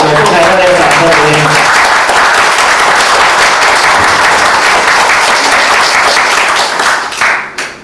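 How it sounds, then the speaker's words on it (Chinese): Warm, sustained applause from an audience at a speaker training seminar as the next presenter comes up, loud dense clapping after a brief voice at the start, tapering off at the end. "我们给副牌热烈掌声鼓励。"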